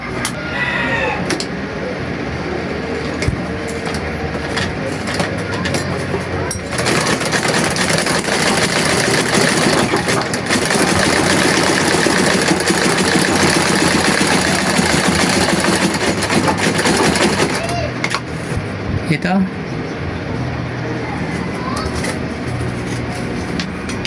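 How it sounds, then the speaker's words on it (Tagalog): A treadle sewing machine runs loudly and continuously, stitching through plywood, a dense mechanical clatter that swells in the middle and eases near the end, no voices. "ipinapakita ko lang sa inyo gaano kalakas itong makina na ito. Kaya niyang tumatahi ng plywood."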